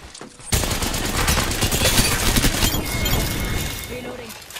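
Gunfire in Apex Legends, a sudden loud burst followed by sustained rapid automatic fire and impacts, close and continuous, with voices talking over it.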